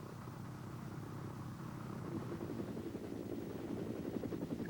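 A military helicopter flies with a steady, dense rotor and engine roar that fills the whole clip and grows slightly louder toward the end, with no voices.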